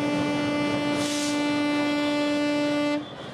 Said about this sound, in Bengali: চিলাহাটি রেল স্টেশনে আবার সীমান্ত পারের হুইসেল বেজে উঠল ৫৫ বছর পর।